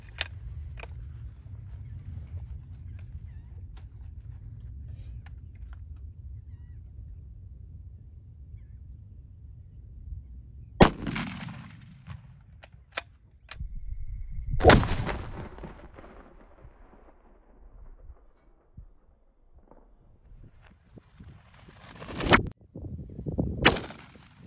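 A 6.5 Creedmoor rifle fired outdoors at a paper stack, with several loud sharp cracks spaced seconds apart, each followed by a rolling echo, over a low background rumble.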